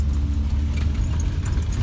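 UAZ off-road vehicle with front-wheel drive engaged, driving on a rural road near a Siberian village in winter, a steady, heavy low engine and road rumble heard from inside, close and loud.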